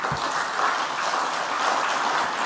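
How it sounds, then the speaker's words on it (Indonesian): Subdued, steady audience clapping at a political speech given by Megawati in Indonesia. The applause carries evenly from start to finish, with no sharp swell or cheering. "tepuk tangannya aja nggak meriah"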